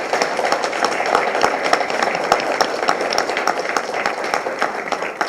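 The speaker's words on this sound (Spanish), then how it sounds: "les pido un aplauso a todas las compañeras de aquí de Juárez." Audience applause for the women colleagues from Juárez at a school closing ceremony, steady dense clapping that holds evenly throughout at moderate loudness with no voices over it.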